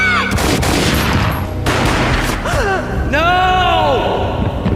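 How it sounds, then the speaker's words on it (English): A single booming gunshot rings out in the Max Payne video game, loud and set against dense music and a dramatic score, with no talk during the clip. "A gunshot boomed and she fell down in slow motion"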